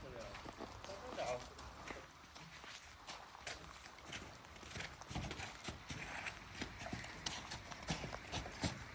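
Slow clip-clop of a Brabant draft horse's hooves on a hard surface, uneven steps close by, with people talking over them.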